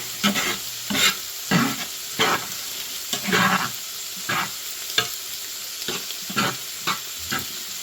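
Sausage for a breakfast casserole frying in a cast iron pan, a constant hot sizzle broken by repeated scraping stirs of a utensil about every half second, close and clear without talk.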